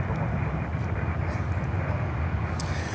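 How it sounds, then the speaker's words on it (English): An American Airlines Boeing 737 on approach at Miami Airport, a steady, continuous broadband jet roar holding at an even level from start to finish, with faint distant background chatter. "American Airlines coming in next, 737."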